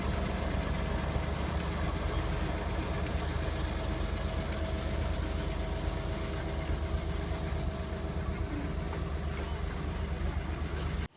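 A train idles at the North Shore Railroad Yard in West Milton, its engine a steady low rumble with a continuous mechanical hum, close and unbroken until it cuts off abruptly at the end.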